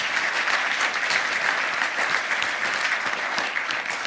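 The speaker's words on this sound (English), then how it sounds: "So a final round of applause for all our panel chairs as well." A dense, steady round of applause from a conference audience at a Glasgow tech festival, continuous and even throughout with no pauses.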